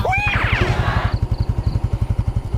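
A Yamaha Fino motorcycle engine putters close by in a steady, throbbing idle rhythm, while a brief voice and chirpy sounds fade away at the start.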